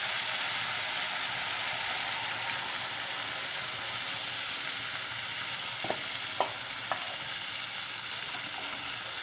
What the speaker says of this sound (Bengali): সর্ষেটা দিয়ে কিছুক্ষণ একটু নাড়াচাড়া করে নেব